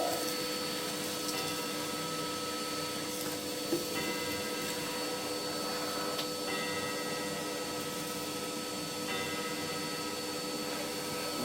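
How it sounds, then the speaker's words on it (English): Vacuum cleaner hoovering soot from a cast iron 5 kW wood burning stove through the inspection hatch and baffle, a steady close whine and roar held throughout with small knocks and clicks from the nozzle. "Hoover that bit up there like that."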